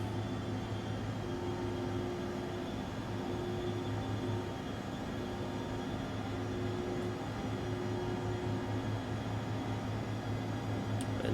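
An ERJ 135 regional jet climbing in a flight simulator game, with flaps and gear up, heard as a steady broadband engine roar and hum with faint tonal lines, continuous and even throughout, with no talking.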